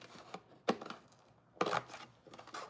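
Scissors or a blade cutting through product packaging to free a SKU label, a few short crisp snips and crinkles at close range, fairly quiet with pauses between.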